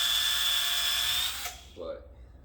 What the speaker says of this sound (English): Ryobi drill that has like no speed.